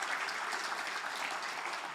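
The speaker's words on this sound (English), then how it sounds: "Another round of applause for Nazim," Audience applause at a memorial celebration, a steady, moderately quiet burst of many hands clapping together.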